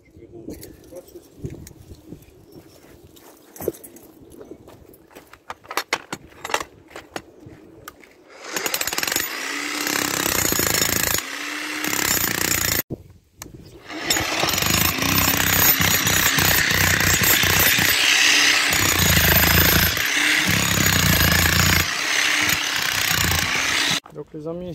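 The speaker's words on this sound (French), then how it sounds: "On va commencer à faire le marteau piqueur." Jackhammer breaking up concrete in a garden to find a leaking underground heating pipe, with scattered clanks and tool handling at first, then long loud bursts of pounding briefly interrupted by a pause.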